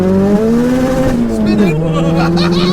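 600bhp dry-sumped Mazda MX-5 accelerating hard in second gear with wheelspin, a loud rising four-cylinder engine note that dips briefly at a shift, heard from inside the car with voices talking over it.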